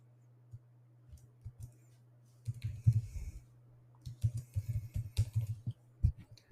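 Computer keys click in scattered, uneven bursts as a command is typed, with a few isolated taps and then faster runs of keystrokes, close and fairly quiet over a low steady hum.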